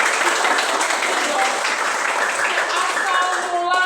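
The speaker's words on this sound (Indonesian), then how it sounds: "Tepuk tangan dulu boleh dong." A classroom audience in an Indonesian language lesson gives sustained, even applause throughout, with some voices faintly mixed into the clapping.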